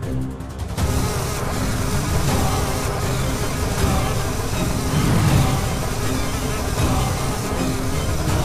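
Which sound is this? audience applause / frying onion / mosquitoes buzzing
mosquitoes buzzing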